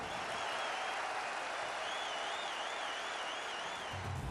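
A huge stadium crowd of more than 50,000 people at the Howdy Modi rally in Houston applauds and cheers, a dense, distant and unbroken roar of clapping with a faint whistle rising above it.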